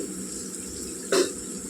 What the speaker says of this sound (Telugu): నీళ్ళు వేసుకోవాలండి ముక్కలు ఉడికేలాగా. నేను ఒక గ్లాస్ వేసానండి.